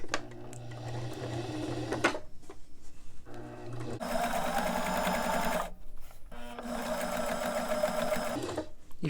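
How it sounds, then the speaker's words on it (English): A sewing machine stitches the edge of a quarter-inch seam while attaching a pocket to a dress. Several steady, whirring runs of close, loud stitching are separated by short pauses. "I'm just going to stitch on the very edge because your seam allowance is only 1/4 of an inch."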